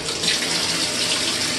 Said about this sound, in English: We'll just wait for some hot water to come out.